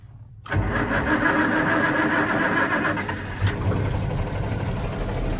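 A big farm tractor's diesel engine, fitted with new injectors, cranks and fires abruptly after a brief quiet moment. It settles into a loud, steady, rumbling idle close by, with a short surge partway through.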